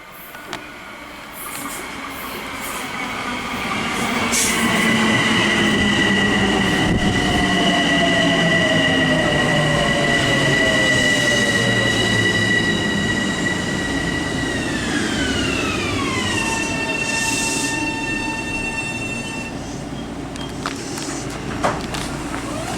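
An NJ Transit BL20 diesel locomotive hauling a passenger train rumbles past close by, its loud rolling noise joined by shifting horn-like tones and metallic wheel squeals, easing off toward the end.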